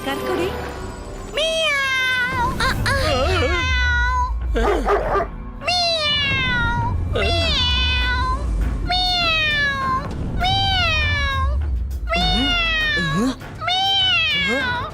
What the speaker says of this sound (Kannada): ಇದು ಕ್ಯಾಟ್ನ ಸೌಂಡ್ ಎಲ್ಲಿಂದ ಬರ್ತಿದೆ?